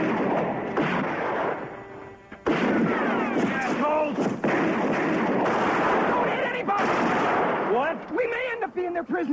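Gunshots ring out in a chaotic movie action scene with sharp cracks and bursts scattered across several seconds, mixed with shouting voices and other commotion.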